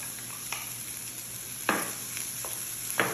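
Sliced onion frying in a little oil in a pot, a steady low sizzle with a few spoon scrapes as it is stirred, close and quiet, no voices.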